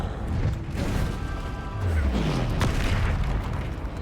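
Confringo spell explosions in the Hogwarts Legacy video game, dense booming blasts and crashes rolling continuously through the whole stretch amid battle noise, with no voice.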